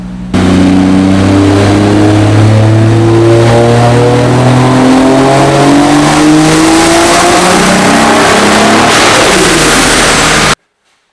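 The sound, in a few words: 1JZ-swapped BMW E36 revving on dyno power run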